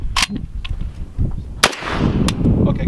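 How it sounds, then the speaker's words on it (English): An AK-47 rifle firing 7.62x39 rounds during a practice shot, heard as a few sharp, loud cracks spread over a few seconds against a noisy outdoor background. "Let me do a practice shot on this real quick."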